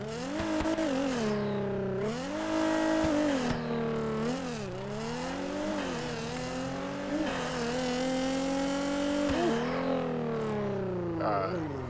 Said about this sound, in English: You hear them turbos?